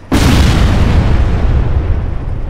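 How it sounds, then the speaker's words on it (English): A mortar shell explosion in the military shooter ARMA 3: one sudden loud close boom with a heavy low rumble that rolls on and fades slowly for a couple of seconds. "Those mortar shots damaged it."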